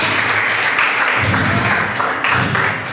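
Church congregation applauding during a sermon, a dense, continuous wash of clapping from many hands, loud and sustained with slight swells.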